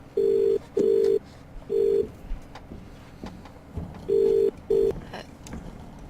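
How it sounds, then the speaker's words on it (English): A telephone rings in The Cat Lady video game: repeated electronic ring tones in short paired bursts over a quiet, murky ambient background, fairly close and clear. "Answer the phone."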